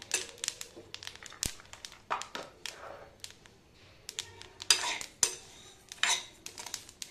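Niger seeds roasting in a pan over a low gas flame while being stirred, making steady close scraping, clinking and light rattling with irregular taps, no talking.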